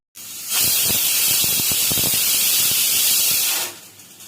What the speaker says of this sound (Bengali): আমাদের প্রেশার কুকারে একটা সিটি চলে এসেছে